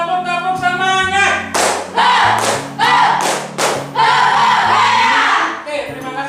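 A class repeats the rhythmic 'tepuk semangat' clap cheer, with several strong bursts of unison clapping interleaved with group chanting and a low sustained tone underneath.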